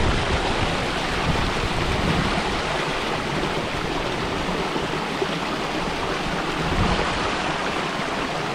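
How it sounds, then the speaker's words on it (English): A continuous close hiss of falling drizzle in the Sri Lankan countryside, steady and unbroken, with a faint low rumble underneath and no voices. "a light drizzle fell gently around us"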